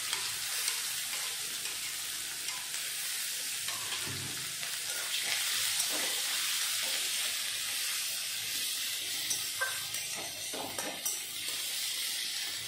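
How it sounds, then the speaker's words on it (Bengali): Chopped onions frying in oil with cumin and bay leaf, a soft continuous sizzle with occasional stirring scrapes and pops, moderately quiet and close. "জিরা ভাজা হয়ে গেল, আমি এখন দিয়ে দেব পেঁয়াজ কুচি।"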